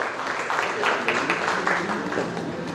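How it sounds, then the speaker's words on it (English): Applause from an audience at an education policy conference, continuous crowd clapping with some voices mixed in, steady and moderately loud throughout. "A round of applause for our very senior leader from the education."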